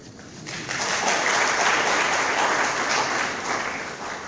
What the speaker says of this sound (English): I think women deserve a clap.